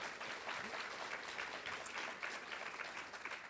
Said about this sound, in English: If you could give them a round of applause to welcome them.